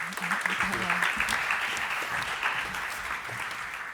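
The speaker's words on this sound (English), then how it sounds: "Maybe an applause." Applause from an audience at a circular economy governance conference, a dense steady clapping that fills the moment while someone speaks over it.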